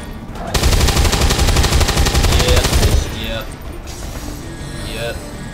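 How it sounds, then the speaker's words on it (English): Sustained automatic weapon fire from the turn-based strategy game XCOM 2, aimed at an enemy officer: a loud, continuous rattle of rapid shots lasting about two and a half seconds, then dropping to quieter rumbling ambience. "I'm gonna take a shot on this 2 health officer"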